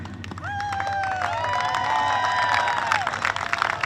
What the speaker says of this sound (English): I need the fans to make some noise